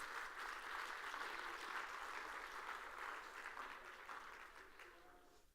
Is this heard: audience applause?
yes